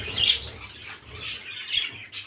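Parrots in a breeding aviary give a few sharp, harsh squawks in separate bursts over a low background rumble, close and moderately loud, with no speech.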